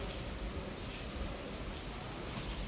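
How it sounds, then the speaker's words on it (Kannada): Steady rain falls continuously, a dense even hiss of drops on surfaces with no voices, close and moderately loud throughout. "ವಾ ಮಳೆ ಬರ್ತಾ ಇದೆ."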